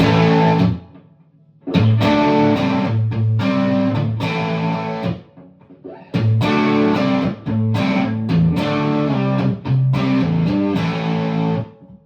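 Loud overdriven electric guitar, set to a classic early-1970s amp tone, plays chunky distorted chords and riffs, with a few brief pauses between phrases; no voices.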